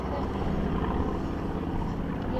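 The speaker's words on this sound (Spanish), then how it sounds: "Y ese con un helicóptero extraño." A small microhelicopter, a three-wheeled ultralight type, flies overhead near the Guadarrama river, a steady rotor and engine drone at moderate distance, fairly faint and continuous.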